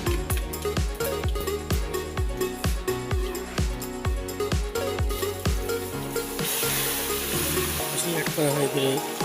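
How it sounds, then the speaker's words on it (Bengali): Bengali five-spice seeds tempering in hot mustard oil with dried red chillies and cardamom, giving a close, continuous sizzle with repeated spoon or stirring knocks and pops throughout, growing brighter near the end. "এখন আমরা অ্যাড করছি 5 ফোড়ন।"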